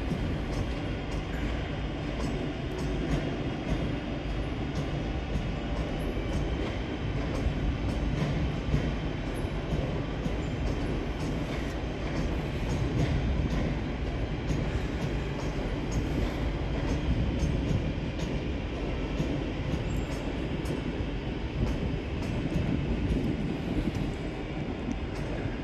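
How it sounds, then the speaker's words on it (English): West Midlands Railway Class 323 electric units 323-220 and 323-241 at Birmingham New Street station, a steady rumbling train noise with a constant low drone and faint repeated clicks, sustained and moderately distant, without talk. "the final train on this side is 323-220 and 323-241. Working the 1243 West Midlands Railway serves from Four Oaks to Redditch"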